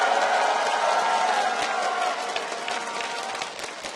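A large arena crowd cheers and roars steadily for the TSM team at the League of Legends Season 2 World Championship in 2012, a loud sustained wash of voices that gradually fades slightly toward the end.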